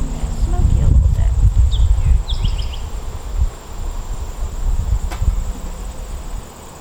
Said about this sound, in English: I don't know if you can hear the bees, if I can capture that on film, but they're very loud